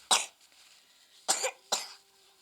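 Three sharp coughs from a young child with a cough and cold, close by: one cough, a pause, then two more in quick succession.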